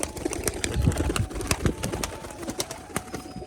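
Pigeons coo softly nearby, with short bursts of wing flapping and flutters over steady outdoor background noise.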